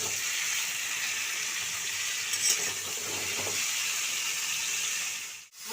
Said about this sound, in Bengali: পটলগুলো আমি এখন ভাজছি একটু